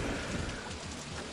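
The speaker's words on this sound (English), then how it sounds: "It is raining quite a bit, though." Steady, soft rainfall hisses continuously over a theme park in OpenRCT2, a dense even patter with faint low rumble underneath and no voices.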